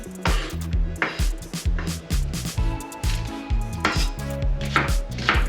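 Rapid knife chopping of onion and pepper into very fine pieces on a board, a steady run of close, sharp taps with brief pauses, alone with no talk, for stuffed mussels.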